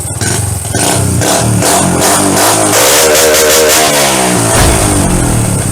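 A motorcycle engine fires up and revs hard and loud at close range, the pitch climbing and wavering through repeated throttle blips with a rough, raspy exhaust.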